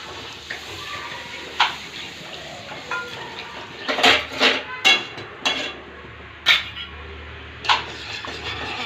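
A spoon clinks and scrapes against a pan while white sauce is stirred and milk is added, several sharp close knocks spaced irregularly over a soft background.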